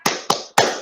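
Three sharp, evenly spaced claps in unison from a classroom group doing the Tepuk PPK clap chant, close and crisp with short ringing decay between beats.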